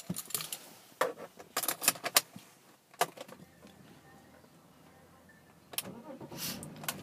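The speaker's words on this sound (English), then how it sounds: "And just getting the car started." A black BMW X3 M Sport diesel with automatic gearbox is started, amid keys jangling and cabin clicks, followed by a quiet, steady idle and a later burst of handling noise; no voices are heard.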